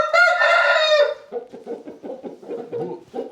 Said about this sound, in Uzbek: Qashqadaryoning shu mashhur Kuvalda laqabli xo'rozi bolasi mana